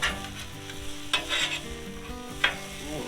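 Vegetables for a Philly cheesesteak sizzle on a Blackstone griddle, a steady close hiss with scraping spatula flips at two moments, alone with no talk, over a faint background music bed.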